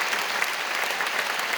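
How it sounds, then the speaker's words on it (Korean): Congregation applause during a Sunday church service, a continuous dense wash of clapping from many hands, evenly loud throughout with no talk over it. "여러분 한번 크게 박수로 환영하시죠"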